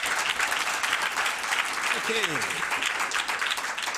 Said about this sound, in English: Let's give Lisa another round of applause.